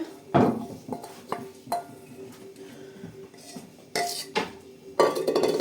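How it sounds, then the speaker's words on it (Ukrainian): A spoon clinks and scrapes against a bowl while stirring in melted honey, a series of irregular taps and scrapes, close by, with no talking. "і перемішуємо все разом"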